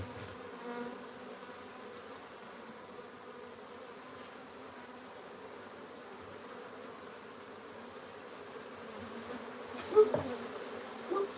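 Agitated honeybees from a wild hive being transferred to a new box drone in a steady, dense buzz throughout, close to the listener, with a brief louder swell of wings near the end.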